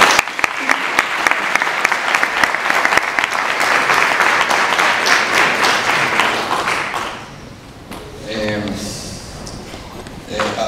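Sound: audience applause at a lecture

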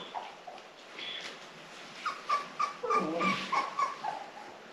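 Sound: puppy whimpering and crying

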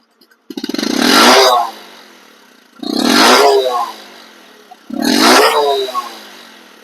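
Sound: Bajaj Discover 125cc motorcycle engine running

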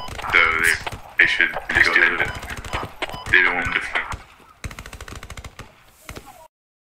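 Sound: gunfire in a video game

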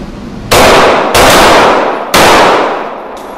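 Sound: gunshots during a low ready pistol shooting drill

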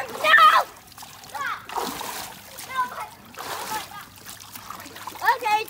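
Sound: children splashing water

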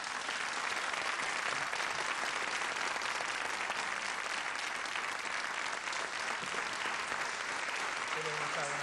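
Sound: TV studio audience applause

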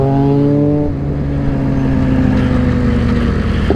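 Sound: motorcycle engine revving during a group ride

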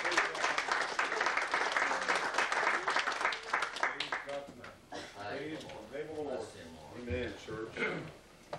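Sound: audience applause for Brother Brian

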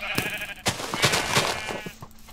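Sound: sheep bleating in video game Minecraft

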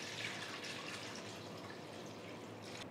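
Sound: water poured into a pan for semiya payasam

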